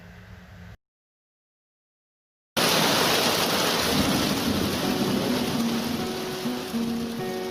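Steady, heavy rain hisses loudly after a brief gap of silence, with a low rumble underneath.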